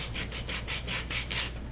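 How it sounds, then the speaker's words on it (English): A power sander scuffs paint off a wooden Christmas decoration, giving a steady rough scraping buzz that pulses in short repeated strokes, close and fairly loud, with no talking. "So I'm gonna just take my sander"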